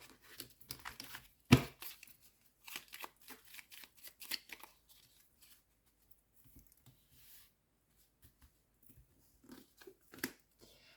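Tarot cards are shuffled and drawn by hand in quiet, intermittent flurries of soft riffling and papery slides, with a sharper snap near the start and long near-silent gaps between bursts.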